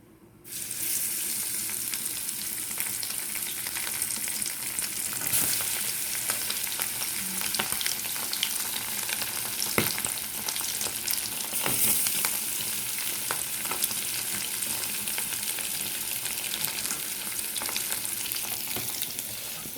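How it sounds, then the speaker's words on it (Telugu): Para fish fries in oil in a pan over a low flame for a Chennai-style fish curry, a continuous close, even sizzle that starts abruptly and crackles steadily with occasional sharper pops, no talking. "సిమ్లో పెట్టి వేయించుతాను నేను"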